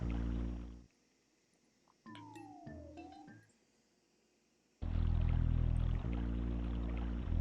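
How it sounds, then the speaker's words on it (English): A waterfall in the SNES game EarthBound: loud, steady broadband rushing that cuts out for a few seconds while game chimes and a sliding tone play, then returns full and continuous. "Here's that waterfall we kept hearing about."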